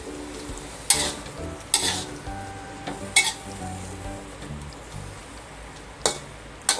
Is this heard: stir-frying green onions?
yes